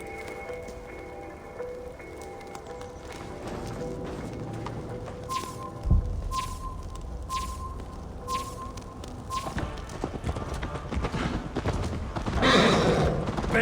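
Horses gallop with a steady hoof rhythm and occasional neighs during a race in Assassin's Creed Valhalla, layered with game ambience, a few whistling tones, and louder rushing noise near the end.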